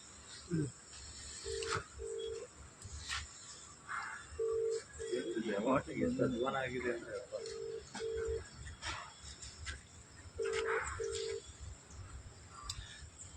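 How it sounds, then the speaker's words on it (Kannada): Short electronic tones from a phone keypad beep in small pairs and clusters, mixed with crickets chirping and a person talking nearby. "ಈಗ ಅಧಿಕಾರಿಗೆ ಫೋನ್ ಮಾಡ್ತಾ ಇದ್ದೀನಿ"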